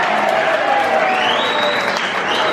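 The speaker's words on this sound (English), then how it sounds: "Give a big round of applause, mate." Loud, steady applause from a comedy club audience, dense clapping sustained throughout with crowd noise and some voices mixed in.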